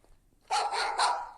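A dog barks twice close by in a game setting, two loud sharp barks back to back after a short quiet stretch.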